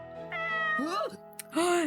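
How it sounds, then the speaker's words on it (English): A cat in the Corpse Party game gives a drawn-out, wavering meow followed by a shorter second meow, close and clear over a quiet background. "It's a cat!"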